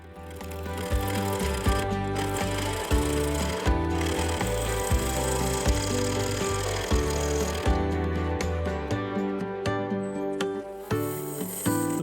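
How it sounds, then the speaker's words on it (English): A gouge scores a yew blank spinning on a woodturning lathe, making a continuous rough, chattering scrape. Rapid rhythmic knocking runs under it, loud and close for the whole stretch. "The line I'm scoring into the top of the lower blank is a guide to how wide I should leave the wall thickness."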